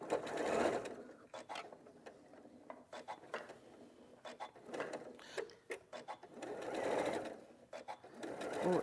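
Fast machine stitching from a home sewing machine during a live sewing demonstration, a steady whirring run that swells and fades in bursts with clicks and mechanical taps between, fairly close and alone without talk.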